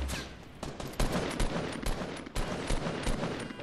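Rapid gunfire rattles through a shooter video game, bursts of sharp shots fired in quick succession with short gaps, fairly quiet in the mix.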